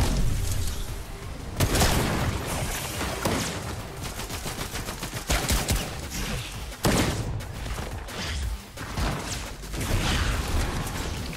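Rapid sniper and automatic gunfire in the Fortnite Chapter 5 Season 2 battle royale, loud and dense, with repeated shots and bursts through the whole stretch and a few heavy booms, no talking.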